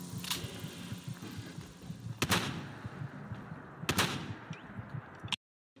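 A few sharp, isolated gunshots from the video game Fallout 4 crack out over quiet ambient game noise, spaced seconds apart before the sound cuts to silence.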